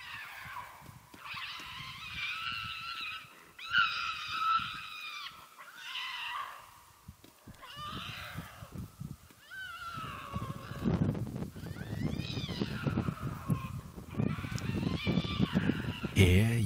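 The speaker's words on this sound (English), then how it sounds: "Two lynx cats scream at each other." Two lynx cats scream at each other in harsh, wavering yowls that rise and fall in repeated bursts, loud and close, with rougher noisy stretches toward the end.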